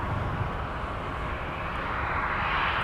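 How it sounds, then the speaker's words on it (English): Delta A330-900neo airliner departing MSP airport for London on a cold day, a steady broadband jet engine roar heard from some distance, constant and unbroken with no talk. "we are going to get Delta 10 departing to London"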